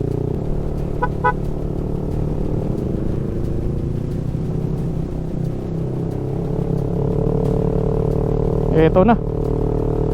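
Motorcycle engine straining up a steep mountain road near Miagao, Iloilo, holding a steady close-up drone with a couple of brief horn toots, while voices can be heard talking over it.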